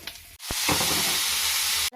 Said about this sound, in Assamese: পিঁয়াজ দিছোঁ এটা সৰুছে, সেইখিনি ভাজি লওঁ